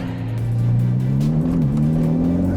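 A Ferrari Portofino M driven hard on a wet road in sport mode, its engine note rising and dipping briefly as it accelerates, steady and fairly close, with no talk.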